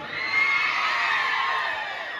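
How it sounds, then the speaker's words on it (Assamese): A live audience at an Assamese comedy show shouts and cheers in one loud, sustained roar of many voices that swells and holds throughout, with no single voice standing out. "আপোনালোকৰ এই চিঞৰটো কিন্তু শেষলৈকে ৰাখিব।"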